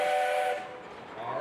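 A steam tractor whistle at the Sycamore steam show gives a short, loud, tonal blast that fades out after about half a second, leaving faint background noise.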